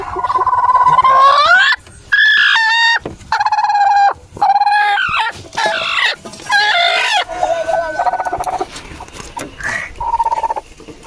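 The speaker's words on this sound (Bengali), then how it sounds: "আর এই দেখো মুরগি, তো এবার মুরগিটাকে ডিমের উপর দিয়ে দেবো" A hen clucks and squawks loudly and near at hand while being set onto a clutch of eggs in a rural Sundarban home, her calls coming in rapid, rising bursts with short pauses and no talk.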